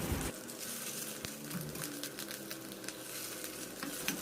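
Fish roe fritters fry in a hot pan, giving a steady, close sizzle and crackle with small bursts of spattering oil throughout, and no voices.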